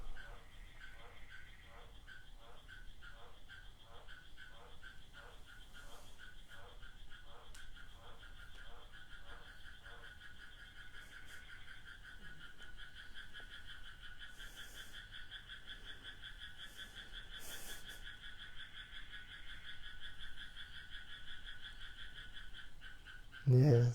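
A chorus of frogs croaking in a steady, rapid pulsing rhythm, dense and continuous for the whole stretch, with some higher trilling layered over it and a brief louder knock at the end.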